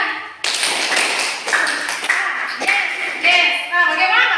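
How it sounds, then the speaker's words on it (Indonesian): Students in a classroom perform a rhythmic spirit clap, loud patterned claps in bursts mixed with chanting voices close by. "Tepuk semangat saja ya."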